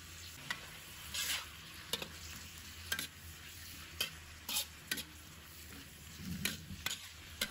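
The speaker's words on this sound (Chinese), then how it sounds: "大火翻炒均匀" Mustard greens and pork belly are tossed in a pan over high heat, seasoned with salt, light soy sauce and chicken powder. A soft, steady sizzle runs under sharp, irregular spatula scrapes and clinks, fairly faint and without any talk.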